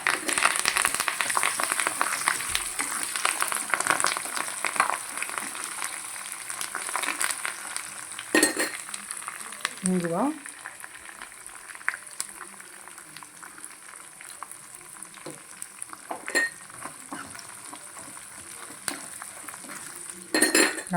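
Curry leaves frying in a pan with potatoes and green chilies for a mango masala pulihora produce a continuous, close crackling sizzle lasting throughout, dotted with clinks and scrapes of a stirring spoon and a brief squeaky note midway.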